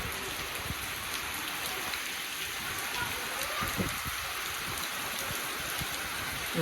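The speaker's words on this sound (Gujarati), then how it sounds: "વરસાદ આવી ગયો છે જોરદાર" Heavy rain pours steadily over a farm field after the cotton harvest, a dense continuous hiss with scattered close drops, loud and unbroken throughout.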